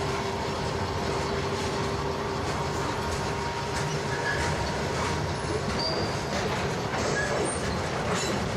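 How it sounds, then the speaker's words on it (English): HO scale model rail cars roll past with a continuous rumble and clatter, and thin metallic flange squeals, added sound effects, rise briefly toward the end. "some flange sounds for the rail cars as they pass by"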